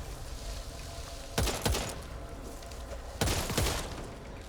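Gunfire in the Back 4 Blood beta, two separate short bursts of shots, each sharp and loud, with a low game backdrop between them.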